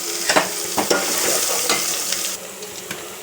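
Onions and coarsely crushed garlic fry in a pan for a tomato and potato curry, a steady close sizzle broken by repeated scraping stirs.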